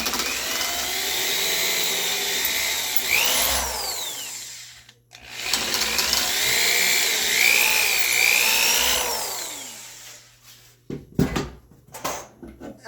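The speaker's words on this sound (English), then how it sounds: "I'm going to screw it all the way through with a wider screw" A power drill drives a wider screw through the wooden back of a handmade cabinet scraper, two sustained whirring runs with rising and falling pitch, close and loud, followed by a few sharp knocks and clatters of wood.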